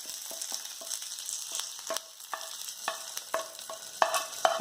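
Curry leaves frying in hot oil as a tempering for papaya and vanpayar curry, a steady close sizzle broken by repeated sharp crackles and spits, with no talk.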